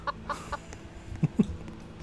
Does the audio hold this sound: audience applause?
no